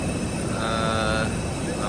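IndiGo and Air India aircraft stand at an airport in Oman in the early morning, with a steady jet engine drone and whine lasting throughout, beneath people talking nearby.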